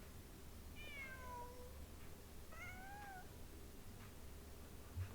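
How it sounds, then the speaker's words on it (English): A cat meows twice in the video game Genshin Impact, two short falling mews a second or so apart, faint over a low steady background hum with no talk. "Just a cat"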